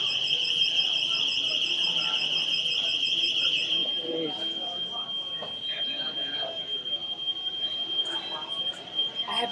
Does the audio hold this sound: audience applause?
no